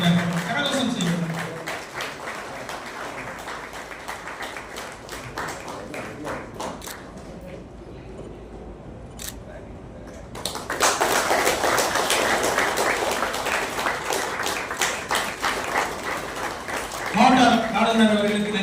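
Applause from the audience at a Rotary Club installation ceremony, scattered clapping under talk that fades to near quiet midway, then swells again into fuller clapping toward the end.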